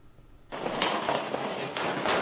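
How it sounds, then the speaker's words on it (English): Sharp bangs and crackling bursts of gunfire during a Ukraine-NATO Sea Breeze military exercise in the port of Odessa, with a sudden loud onset and a few distinct blasts over a dense, noisy wash. "Gunfire amid the high tourist season in Odessa"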